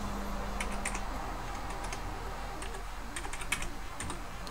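One-handed typing on a Commodore Plus 4 computer keyboard, irregular clusters of sharp key clicks over a steady low background hum, with no talking.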